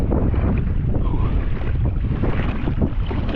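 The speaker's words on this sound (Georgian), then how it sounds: "აი აგი ქარი" Wind gusting on a kayak on Shaori lake: loud, rumbling buffeting against the microphone, steady throughout, with no talk.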